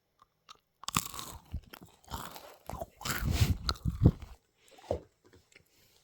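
A chocolate-filled macaron bitten and chewed close to the mic: several crisp crunches in bursts over a few seconds, then softer chewing fading out, with no talking.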